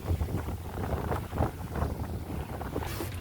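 Night wind rushes steadily over a sailboat at sea during an Azores-to-France crossing, a continuous broadband roar with low rumbling buffeting close to the microphone and no voices.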